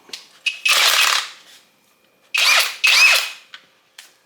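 A high-torque power drill whirs in short loud bursts, a longer run followed by two quick back-to-back pulses, with brief clicks between and near silence in the gaps.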